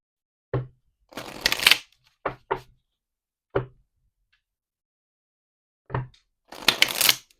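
Oracle cards shuffled by hand: a few sharp taps and slaps of the deck, then quick riffling bursts, close and crisp against silence.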